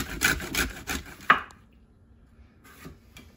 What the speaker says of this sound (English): I'm slicing some cucumber for just a cucumber salad